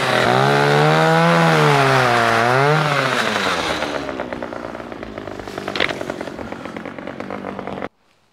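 A chainsaw cutting through packed straw: a loud, close engine revving and dipping in pitch, then settling into a rougher, steady cutting drone before it stops abruptly.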